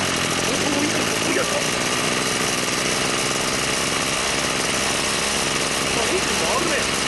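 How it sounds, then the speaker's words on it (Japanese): A Kubota brush cutter runs after repair of its seized engine, giving a steady, buzzing two-stroke drone that holds loud and close for the whole stretch, with brief voices over it. "エンジン回るね。"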